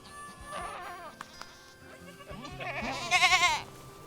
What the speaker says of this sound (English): we raise cashmere, North American cashmere goats